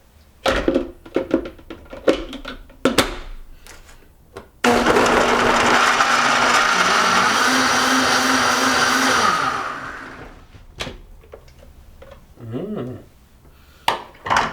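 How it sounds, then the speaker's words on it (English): A blender blends a green mint smoothie loudly and steadily for about five seconds, with a low motor hum under its roar, then winds down; brief clatter and knocks come before and after. "And we blend."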